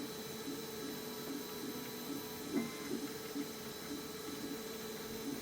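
An Anycubic S1 3D printer starting a print job gives a steady mechanical whir with rhythmic stepper ticks and small ratcheting clicks, close by and moderately quiet, with no talking.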